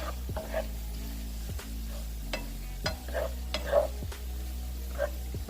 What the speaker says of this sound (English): Let this crawfish cook for a little while.